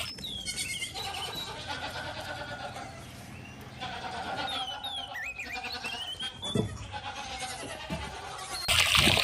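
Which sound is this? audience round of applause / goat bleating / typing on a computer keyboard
goat bleating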